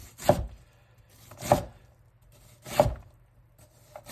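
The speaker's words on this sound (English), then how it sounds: "Never done this style of chopping an onion." Knife blade chopping an onion into a uniform dice on a cutting board, three crisp, evenly spaced thuds about 1.2 seconds apart, close and fairly quiet with no talking.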